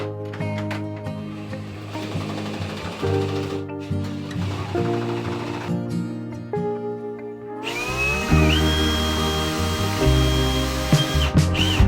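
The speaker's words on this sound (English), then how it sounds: "Right now, we are coring some holes for the line sets to go through." A core drill bores 2 to 2.5 inch holes through a wall for air conditioner line sets, grinding steadily and loudly throughout with shifting pitch, rising to a higher whine in the final seconds.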